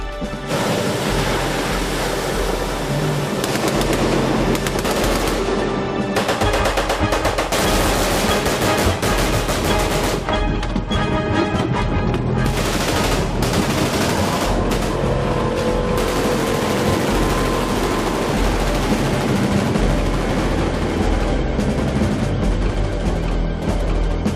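Sustained barrage of covering gunfire around a PBR river patrol boat, loud and continuous with dense bursts and rattling shots over a roaring wash, no speech.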